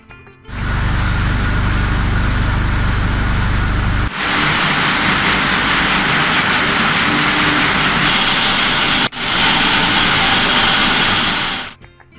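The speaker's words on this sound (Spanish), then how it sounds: "He aquí una prueba del ruido característico en las almazaras de aceite." Loud, dense industrial machinery noise fills an olive oil mill, a constant broadband roar with low rumble that cuts briefly twice before resuming and ending abruptly.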